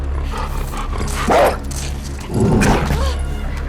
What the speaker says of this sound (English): when the dog is sniffing you and where it's going